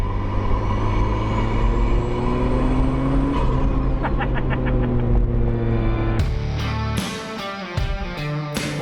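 A vehicle drives a gravel road up the Old Woman Range in Central Otago, New Zealand, with a steady, loud engine rumble throughout, and sharper tonal bursts cutting in over the final few seconds.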